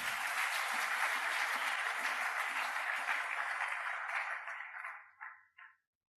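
A church congregation at a Sunday worship service applauds steadily for several seconds, a dense even clapping that thins and fades out at the end with a few final claps.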